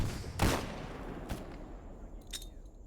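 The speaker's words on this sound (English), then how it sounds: "So they can keep firing stuff at me." Enemy gunfire in the shooter game Stalker GAMMA, a few sharp cracking shots spaced apart over a low background rumble, moderately distant and fairly faint.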